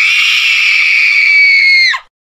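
A person imitates the scream someone lets out before sneezing: one loud, sustained high-pitched shriek held for about two seconds, then cut off abruptly.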